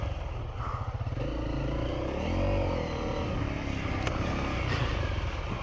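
A dirt bike motorcycle engine revs and pulls steadily while being ridden, a loud, continuous buzzing drone that rises and falls in pitch, with faint clattering and no talk.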